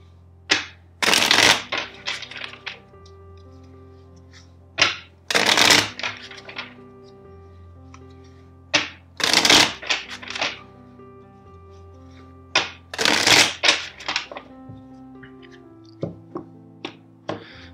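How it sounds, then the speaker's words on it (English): A deck of tarot cards is shuffled in four bursts, each a loud, close riffling flutter lasting about a second, separated by quiet pauses with light taps and clicks of cards being handled. "First, let's shuffle four times the deck."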